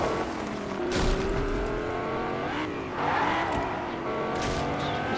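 A loud car engine in the video game Fortnite roars and revs continuously, pitch rising and falling with acceleration, with brief screeching and bangs mixed in.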